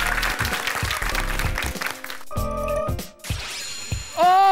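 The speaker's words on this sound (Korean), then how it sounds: "박수 한번 주세요" A studio audience on a Korean quiz show claps for a contestant before he sings a dance song; the dense clapping runs for about two seconds, then gives way to music and a singing voice.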